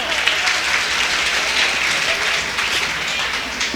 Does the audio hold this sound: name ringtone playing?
no